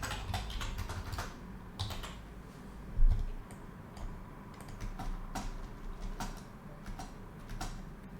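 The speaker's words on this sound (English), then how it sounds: "We choose bold and we write our presenter's name by Martha G. Santos." Close, steady typing on a computer keyboard, a dense run of light key clicks with short pauses and one heavier tap.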